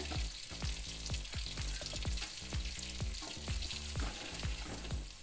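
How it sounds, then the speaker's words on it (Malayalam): Ginger, green chili and beans sauté in a pan for vegetable upma, a steady close sizzle broken by repeated rhythmic scraping stirs of a spoon against the pan, with no talking. "നമുക്കൊരു വിധം വഴത്തിയെടുക്കാം"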